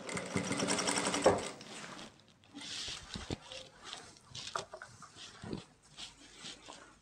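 An electric sewing machine runs fast in a single loud buzzing burst while stitching elastic onto palazzo pants, then stops, leaving softer scattered handling noises and faint whimpering sounds.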